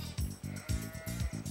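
Sheep and goats bleat repeatedly in close succession, several loud calls in a row with short pauses between them, no voices over them.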